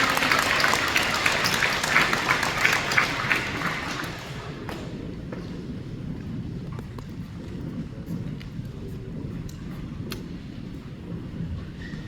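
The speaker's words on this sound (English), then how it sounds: "One more round of applause." Audience applause at a 2024 high school awards and scholarships ceremony: dense clapping from a crowd that holds strong for about four seconds, then thins to a lighter scattered patter that lingers.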